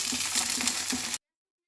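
Fish fries in oil in a pan, a dense, steady sizzle with small crackling pops throughout, close and loud, then cutting off abruptly.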